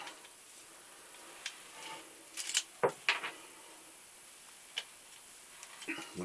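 Stevens 987 .22 rifle being unloaded, a few close metallic clicks and clacks of the action in short irregular bursts, with quiet pauses between them.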